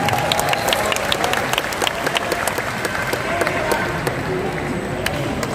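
Loud, dense applause from a large crowd of volunteers at a political rally, sustained and even throughout, with some cheering mixed into the clapping.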